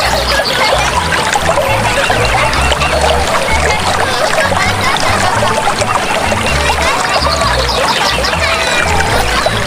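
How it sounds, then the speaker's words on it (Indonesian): River water flows steadily and loudly in an outdoor village setting, a continuous rushing wash with no pauses. "Air sungai mengalir tenang dan segar."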